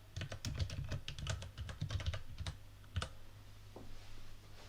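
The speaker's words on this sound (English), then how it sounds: "If I type this," Typing code on a computer keyboard, a quick run of soft, close key clicks in uneven bursts, then a few scattered taps after a short pause.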